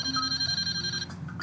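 A toy Disney Princess flip phone plays a bright electronic ringtone of steady high tones for about a second, then stops, loud and close.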